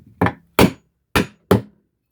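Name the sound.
hammering a nail back out of wood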